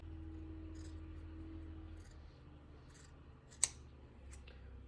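Scissors cut T-shirt fabric in a quiet room, a few faint snips spread out over several seconds with one sharper, louder snip near the end.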